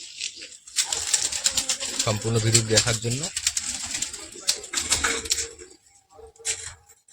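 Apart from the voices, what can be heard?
pigeons in a loft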